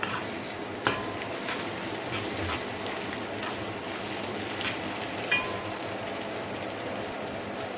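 Sliced onions crackle and sizzle in hot oil with ginger-garlic paste for a Pakistani mutton curry, a soft continuous fizz broken by a couple of sharp clinks from the stirring spoon.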